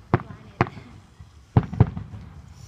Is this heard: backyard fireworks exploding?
yes